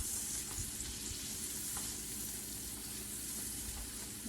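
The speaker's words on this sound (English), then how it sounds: "So my onions are sauteing in butter" Onions saute in half a stick of real butter in a pan, a quiet, steady sizzle and crackle close by with faint occasional clinks.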